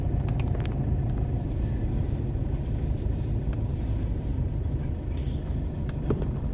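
Steady city road traffic in central Vientiane, a continuous low rumble of engines and passing vehicles with no break, fairly loud and close, with faint higher hiss on top.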